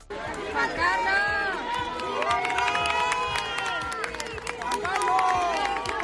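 A crowd greets King Juan Carlos outside a church at a wedding with sustained applause, cheering and overlapping shouts. It sounds like a dense, steady roar of voices and clapping, and one voice calls out clearly above it.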